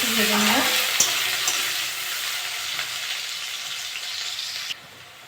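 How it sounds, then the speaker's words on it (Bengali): Onions sizzle loudly in a pan with a few utensil scrapes and stirs, the frying hiss continuing steadily until it cuts off near the end. "পেঁয়াজটা ভালো করে ভেজে নিয়েছি"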